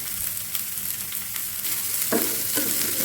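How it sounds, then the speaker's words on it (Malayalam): Shallots and green chilies fry in a pan with a steady, close sizzle, broken by a couple of brief stirring scrapes, with no voices. "കുറച്ച് ചെറുള്ളി, അതുപോലെ തന്നെ പച്ചമുളക് ചേർത്ത് കൊടുക്കുന്നുണ്ട്"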